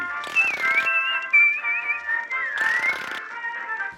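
A cheerful whistled cartoon tune from a black-and-white Disney parody, with sliding notes, carried steadily over two bursts of rattling, clattering noise.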